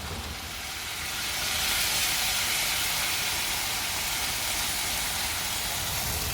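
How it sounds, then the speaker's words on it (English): Brandy and vodka flambéed in a pan to burn off the alcohol make a steady, close, airy roaring hiss that swells after the first second and then holds without a break. "So in order to get rid of the alcohol, we burn it off. Called a flambe."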